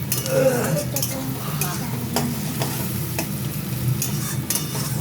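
Onions sizzle and crackle steadily in a hot pan, with occasional scraping and clinks of a stirring utensil close by.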